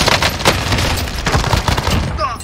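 Rapid bursts of gunfire in a shooter video game crack out in quick volleys, loud and close, with several sharp shots clustered through the stretch and faint background game noise.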